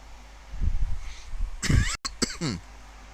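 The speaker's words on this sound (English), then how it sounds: "coughing again" A person coughs a few times in quick succession, fairly close, with a short throat-clearing burst and a brief pause between coughs.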